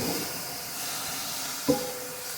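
Ham, cabbage and potatoes fry together in a single skillet, giving a steady, soft broadband hiss with one brief click partway through and no voices.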